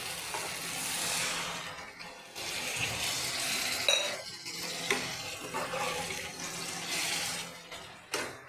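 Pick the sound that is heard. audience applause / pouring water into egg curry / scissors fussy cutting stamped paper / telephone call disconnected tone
pouring water into egg curry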